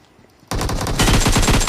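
A sudden burst of rapid automatic gunfire in BGMI cuts in after a brief quiet moment, loud and close, with tightly spaced shots rattling steadily to the end.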